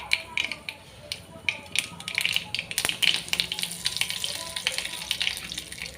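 Curry leaves, cumin and mustard seeds sizzle and crackle in hot oil in a kadai, a close, steady hiss with scattered sharp pops throughout.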